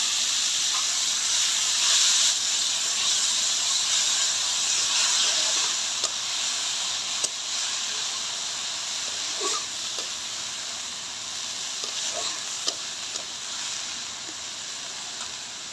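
Radish greens go into a pan of browned frying onions and raise a loud, steady sizzling hiss with a few faint crackles scattered through it.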